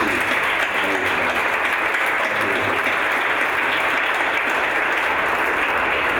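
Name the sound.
applause for Margie at a board meeting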